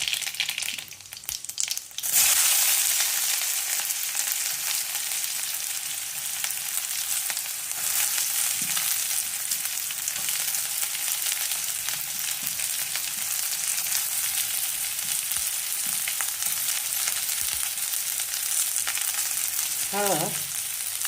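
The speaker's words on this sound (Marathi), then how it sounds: "थोडंसं तेल, जिरं, मोहरी आणि कांदा आणि कढीपत्ता." Oil tempering with cumin, mustard seeds, onion and curry leaves gives a loud, dense sizzle right after a burst of crackling as the ingredients hit the hot oil, then a steady close frying hiss with a few faint clinks.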